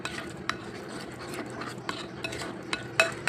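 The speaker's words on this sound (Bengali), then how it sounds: "আটা দিয়ে ভালোভাবে আটাটা মিক্সড করে নেব।" Atta flour and sugar are stirred together in a bowl for parotta dough, giving soft, close scraping with a few sharper utensil clinks against the bowl, and no speech.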